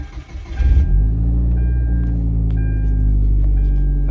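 Hyundai Genesis 2.0 car engine at the start of a test drive, a close, loud, steady low droning hum with clear engine harmonics after a brief rise, and no talking.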